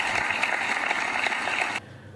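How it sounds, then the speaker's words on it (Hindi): Audience applause for a poet at an online Maharana Pratap Jayanti poetry gathering: dense, steady clapping that stops abruptly just before the end. "जोरदार तालियों के साथ हम आनंद जी का"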